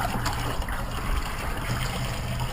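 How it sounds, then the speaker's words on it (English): Hot tap water runs steadily over a Husqvarna TC125 motorcycle foam air filter being rinsed clean of old oil and cleaner, a close, continuous splashing trickle with no talking. "And just rinse out the air filter with some hot water."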